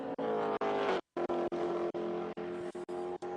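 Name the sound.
BMW race car racing at the Sebring 12 Hours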